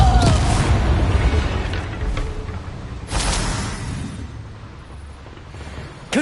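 Confringo spell blasts from Hogwarts Legacy combat: two loud, close fiery explosions a few seconds apart, each a sharp burst trailing into a rumbling decay, with another impact starting right at the end.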